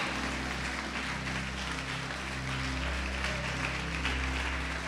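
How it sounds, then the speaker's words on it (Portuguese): Church congregation applauding during a Portuguese-language sermon, a continuous, even patter of many hands heard from a distance over a strong low hum from the hall's sound system. "Pode aplaudir"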